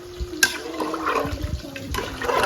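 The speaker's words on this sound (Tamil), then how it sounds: "இப்ப சும்மா அந்த எக்ஸாம் கணக்குல நம்ம தண்ணி சேர்த்துக்கலாம்." Water is poured into a pot of prawn biryani, a splashing, gurgling pour that rises and continues for a couple of seconds, close and fairly loud, with no talk.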